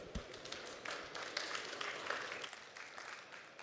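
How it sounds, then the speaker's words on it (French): Faint, distant applause follows a talk at a conference, a steady patter of many hands that thins out toward the end. "Merci beaucoup. On peut l'applaudir."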